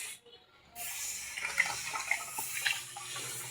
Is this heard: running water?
yes